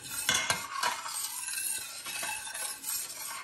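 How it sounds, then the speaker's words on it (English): A plum jelly mixture with Pomona's Universal Pectin is stirred vigorously with a spoon, producing quiet repeated scraping and clinks against the pot. "now I'm going to stir this up really good."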